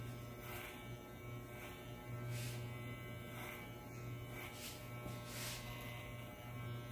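Electric hair clippers buzz steadily at close range as they cut hair held upright against a comb, a quiet continuous hum with brief soft swells as the blades pass through the hair.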